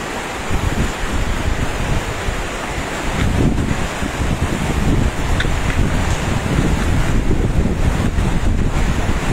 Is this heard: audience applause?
no